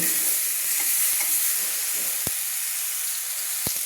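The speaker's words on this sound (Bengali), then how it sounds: "এবার আমি মশলাগুলো তেলের মধ্যে সুন্দর করে কষে নেব" Spice paste is stir-fried in hot oil with a constant bright sizzle, punctuated by a few distinct knocks of a spoon against the pan, close and unaccompanied by talk.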